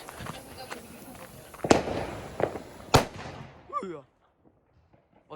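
New Year fireworks going off outdoors, with crackling bursts and two sharp loud bangs, followed by a short whistling or fizzing sound before things go quiet; people talk in the background.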